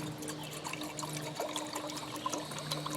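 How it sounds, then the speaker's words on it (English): Water poured from a container at a campfire cooking site, a steady liquid trickle and splash running throughout against a constant low hum, with no talk. "By the time I get this water poured"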